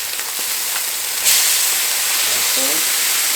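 Onions frying on a hot griddle for an Oklahoma onion burger, a steady broadband sizzle and hiss that swells louder partway through and continues unbroken, close by, with faint clinks and no talking.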